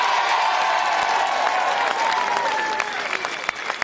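Loud sustained applause from a large election-night crowd at the 2002 Victorian state election, dense clapping that thins slightly toward the end, with some cheering in the mix.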